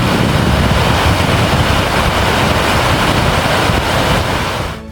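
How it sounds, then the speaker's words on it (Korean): Rushing water of Dynjandi waterfall in Iceland's Westfjords, a steady loud broadband roar close by that holds constant for about five seconds before easing off at the very end. "가까이 다가갈수록 물소리는 더 커지고 폭포의 크기도 더 크게 느껴졌습니다."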